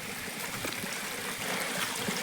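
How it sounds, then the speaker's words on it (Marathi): Water runs along a farm irrigation channel fed from a hillside, a soft steady trickling and gurgling flow, fairly quiet and continuous with no voices. "हा जो पाण्याचा पाट आहे यानेच आम्ही शेतीला पाणी लावतो."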